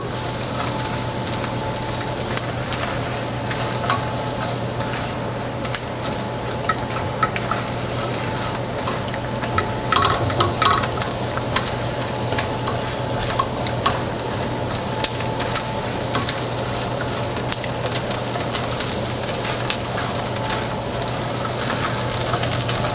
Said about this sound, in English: We're going to mix this around. Kind of fry that tomato paste a little bit.